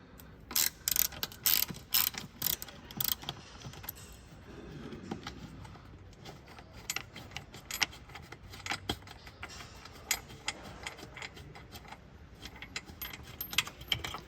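Torx T30 screws being undone from the bumper of a Land Rover Defender L663 during a bull bar fitting, giving repeated sharp ratcheting clicks and metallic rattles in irregular bursts, close up, with no talking.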